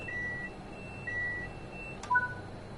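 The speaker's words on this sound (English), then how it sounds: "This is the tilt authorization and speed supervision alarm and will need to be acknowledged." Tilt authorization and speed supervision alarm in Train Sim World 5, two evenly spaced steady electronic tones followed by a short click and a brief lower chime, fairly quiet over a low cab rumble.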